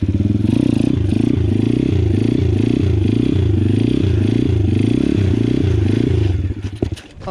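A Loncin 125 motorcycle engine revs hard and loud in rhythmic surging pulses during a wheelie, then sputters and cuts out near the end with a few clattering knocks.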